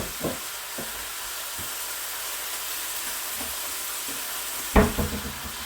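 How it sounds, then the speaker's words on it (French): Veal browning in a pan for blanquette de veau, a steady soft sizzle and hiss running throughout, with a few faint clinks and one sharper clatter of utensil against pan near the end. "faire revenir la viande, je vais la faire dorer"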